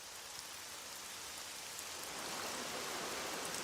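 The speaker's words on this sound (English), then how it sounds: "It's been raining for days." Heavy tropical-storm rain pours steadily on South Pacific islands, a dense, even hiss of drops on surfaces that swells slightly louder partway through, with no voices.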